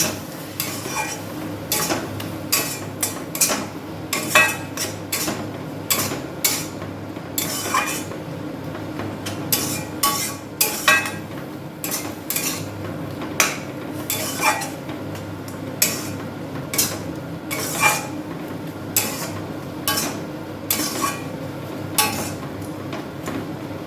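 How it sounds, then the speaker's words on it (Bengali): Drumstick flower bharta with black mustard and chilli paste sautéed in a pan, a spatula scraping and knocking against the metal in quick repeated bursts, close and fairly loud, with no voices. "পেস্টটা এবার এর মধ্যে দিয়ে দেবো এবার ভালো করে এটাকে কষে নেব"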